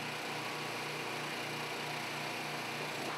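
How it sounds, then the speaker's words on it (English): A small auxiliary power unit engine on a heavy haul hydraulic gooseneck trailer runs steadily, a continuous close mechanical drone with a light, high-pitched engine whine and no talking. "if equipped with an auxiliary power unit, start the engine"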